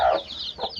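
A farmyard hen in the countryside clucks twice, close and fairly loud: a sharp first cluck, then a shorter, softer one after a brief pause.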